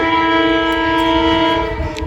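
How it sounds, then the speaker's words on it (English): A train sounds a loud, sustained horn nearby, steady for about two seconds with faint rail clatter beneath. "And I think we have a train. We do have a train."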